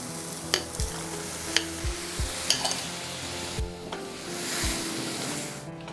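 Ground tomatoes fry in a pan for a Lahori aloo gravy, giving a soft, constant sizzle under repeated scraping and tapping strokes of a spoon as the mixture is stirred.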